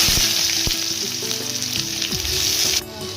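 Onions sizzle steadily in hot oil tempered with dried red chilies and mustard seeds, a loud continuous frying hiss with occasional stirring clinks, dropping off abruptly near the end.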